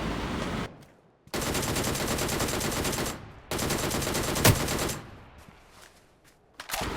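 Bursts of automatic gunfire from the mobile battle-royale game New State Mobile, loud and sustained in long rattling volleys separated by brief pauses, with no talk over them.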